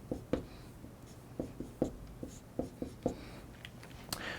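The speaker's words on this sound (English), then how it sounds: "And draw in the relevant hydrogens." Pen strokes on paper while hydrogens are drawn onto an organic chemistry structure, a series of short scratchy taps and strokes in an uneven rhythm, close and quiet, with no talk.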